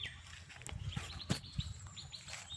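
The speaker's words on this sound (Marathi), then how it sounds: "येतोय बघा, इकडे कोणता तरी पक्षी आहे" Birds chirp in a leafy village on a quiet morning, with several short, faint high calls and tweets repeating irregularly in the background.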